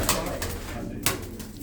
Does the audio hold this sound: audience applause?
no